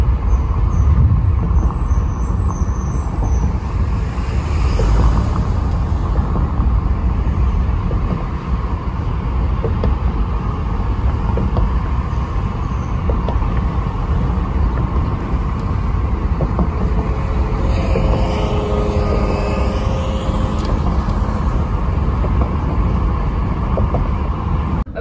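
A car drives at a steady pace toward a car wash, with a continuous loud road and engine rumble and faint squeaks and hisses near the end.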